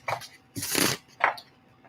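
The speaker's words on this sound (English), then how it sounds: "That's why I started shuffling my cards long way." Tarot cards shuffled by hand in a few quick bursts, each a short crisp riffling rustle with brief pauses between, fairly close and alone.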